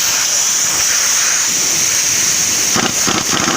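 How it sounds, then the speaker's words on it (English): Air compressor line on a shop air tool hisses steadily and loudly with bright, continuous high-pitched escaping air and a few brief pulses near the end, while work is done on a Suzuki Grand Vitara 2.5L engine. "Sounds like my air compressor's frozen."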